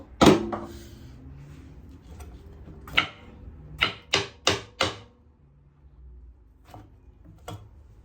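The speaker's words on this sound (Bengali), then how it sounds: "ঝিঙ্গাগুলো কুচি কুচি করে কাটবো।" A knife chops ridge gourd finely on a board, sharp isolated taps at first, then a quick run of four to five firm chops close by, followed by a few scattered lighter cuts in a quiet kitchen.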